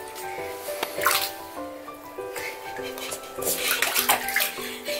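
Water runs and splashes close by during a corgi puppy's bath, with scattered drips, sloshes and wet squishing over a steady trickle, and no talking.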